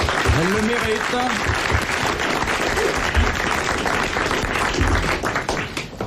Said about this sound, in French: Eh bien, vous allez applaudir Madame Pournain d'Angoulême.